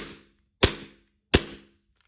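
A Glock G19X gas BB pistol fires three loud, sharp close-range shots about two-thirds of a second apart, each a crisp crack with a short decaying tail.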